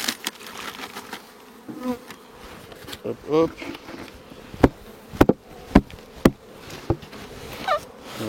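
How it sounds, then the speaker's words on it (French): Honeybees buzzing around an opened hive during a spring inspection, a steady insect drone with sharp knocks and taps from handling frames on top, and a person speaking briefly. "Là, j'ai moins d'abeilles."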